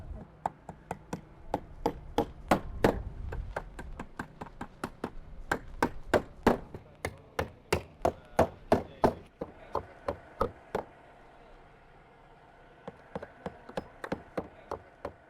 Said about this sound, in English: We're just going to nail these top holes.